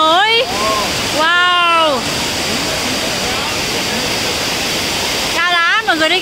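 Thủy Tiên waterfall plunges from a great height during a Tết holiday visit, a constant full rushing roar of falling water, with voices exclaiming and talking over it in short bursts.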